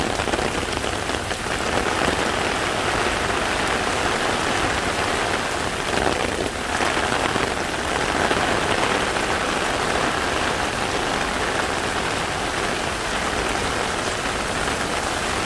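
Heavy rain pours steadily during a thunderstorm on a street in Bangkok near Nana BTS, a dense continuous hiss of drops striking surfaces close by with no thunder standing out.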